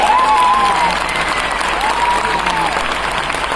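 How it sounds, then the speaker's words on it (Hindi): A crowd at an MI Lifestyle program in Nagpur applauds steadily and loudly throughout, with a voice faintly singing or calling over the clapping. "एक बार जबरदस्त ताली उनके लिए हो जाए."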